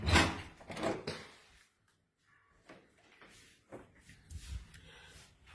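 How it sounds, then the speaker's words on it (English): A door opened close by, with a clunk and rattle, then a soft sliding scrape and faint knocks, fairly quiet. "Let I just open the door."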